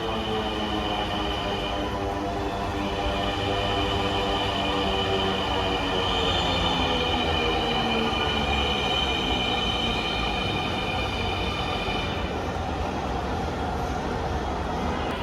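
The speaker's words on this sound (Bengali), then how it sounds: "আমাদের ট্রেনটা অলরেডি চলে আসছে, যেটা আগারগাঁ থেকে আসতেছে" A Dhaka metro rail train pulls into the platform with a loud, continuous rumble, tonal motor whine and wheel squeal that swell and hold for the whole stretch, with no talk heard.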